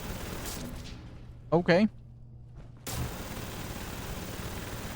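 An Ion Gun firing fusion core ammo in Fallout 4, heard as a pair of quick sharp zapping bursts followed a second later by a dull boom-like thump, with a short spoken word nearby.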